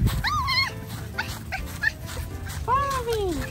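Puppies whimper and yip in high, rising-and-falling cries, a few close whines spread across a short stretch of background noise.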